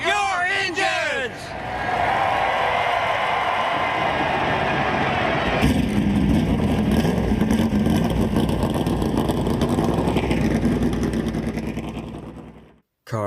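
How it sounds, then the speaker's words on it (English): Race car engines fire up and rev together on a 1.5-mile oval, a loud sustained mechanical roar with rising revs, a brief dip early, then a thick rumble that fades out abruptly near the end. "Cars fired up"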